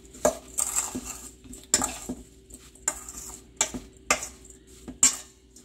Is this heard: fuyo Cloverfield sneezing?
no